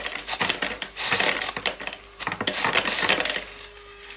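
An electric airsoft drum magazine holding 2300 BBs winds up and feeds pellets, heard close as a dense rattling, clattering burst of BBs with pauses and a whirring undertone.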